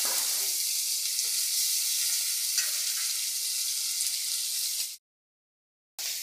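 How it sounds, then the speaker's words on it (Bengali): Fish fries in oil with a loud, steady sizzle that runs for several seconds, drops to silence, then resumes briefly. "বাকি মাছগুলো আমি দিয়ে দিচ্ছি, এগুলো ভেজে নেবো লাল লাল করে"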